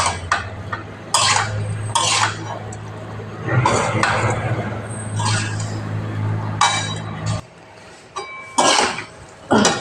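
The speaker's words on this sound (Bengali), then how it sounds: "আমি আলু, পটল, চুনো মাছ দিয়ে দেবো, দিয়ে এবার আর একবার নাড়তে থাকবো।" Potatoes, pointed gourd and small fish are stirred in a pan of spiced oil, with repeated scraping and clinking strokes over a steady low hiss, some strokes louder and close.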